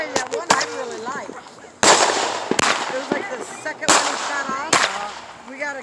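Backyard fireworks on the Fourth of July go off in several loud, sharp bangs at roughly second-long intervals, each followed by brief crackle, while voices talk over and between the reports.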